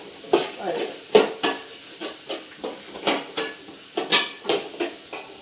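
Spices sizzle and crackle in a hot pan for a country-style chicken curry, with repeated stirring scrapes every half second or so, close and moderately loud.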